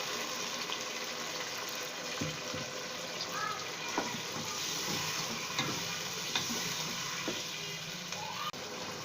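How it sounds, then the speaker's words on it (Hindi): A steady sizzle and bubbling fills the pan as about a cup of water meets hot frying potatoes for aloo gobi, with light stirring clinks scattered through and no voices. "1 कप के करीब इसमें पानी डाल देंगे।"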